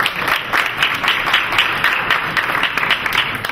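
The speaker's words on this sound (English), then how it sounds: "How about a round of applause for Paul?" An indoor audience at a license plate auction event applauds the committee chairman, a dense steady burst of many hands clapping at moderate loudness throughout.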